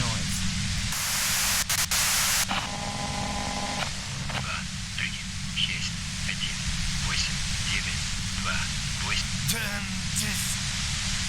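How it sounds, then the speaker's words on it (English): Harsh white-noise static hisses throughout a scene in the video game Disco Elysium, loud and constant, with a voice talking over it. "you can do it through the white noise"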